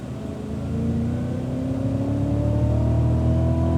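A Cadillac CTS-V pulls hard on throttle around the COTA racetrack, its engine note climbing steadily in a loud, continuous rising drone heard from inside the car, with no talking.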